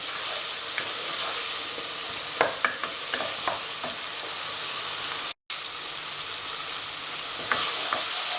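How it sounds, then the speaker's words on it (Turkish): Tomato paste sizzles and crackles with vegetables in a hot pan, giving a loud continuous frying hiss with sporadic sharp pops and a brief dropout midway. "Salçasını da atayım beraber kavrulsunlar."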